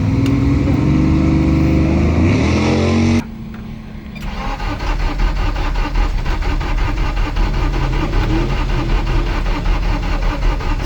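A Honda Civic FG2 with an E85 all-wheel-drive setup and a mechanical fuel pump being cranked without starting, a loud steady starter churn that cuts off briefly and then resumes in a fast even rhythm.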